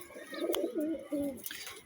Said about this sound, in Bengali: নতুন কিছু কবুতর ছাড়া হইতেছে